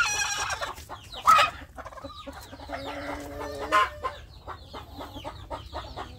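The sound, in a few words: village chickens clucking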